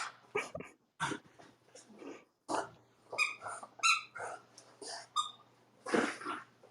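A dog whimpers, whines and gives short barks in an uneven series of vocal bursts, close and fairly loud, with breathy sounds between them.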